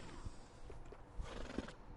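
A horse whinnies in a video game at a stable trade, a quiet, drawn-out neigh with a few soft hoof clops around it.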